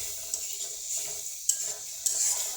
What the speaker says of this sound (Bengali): দেখতে পাচ্ছেন মশলাটা আমি ভালো করে কষায় নিতে আসি